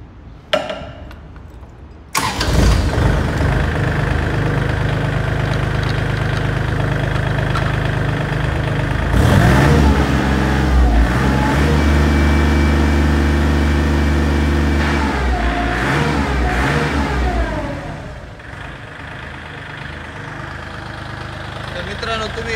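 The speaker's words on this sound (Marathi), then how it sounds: "आता आपण चालू करून बघूया ट्रॅक्टर, त्याची फायरिंग वगैरे कशी काय." A Kubota L3408 34hp tractor engine cranks, catches and settles into a smooth, steady running note, close and loud for about fifteen seconds before easing down. Someone talks near the end.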